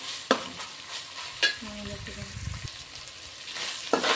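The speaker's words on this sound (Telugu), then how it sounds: "పుదీనా అయితే కొంచెం పచ్చి స్మెల్ పోయేంతవరకు మంచిగా ఫ్రై చేసుకోవాలి." Ginger garlic paste and fresh mint fry in a hot pan for bagara rice, a close crackling sizzle broken by a few sharp spatula scrapes and knocks as the mixture is stirred.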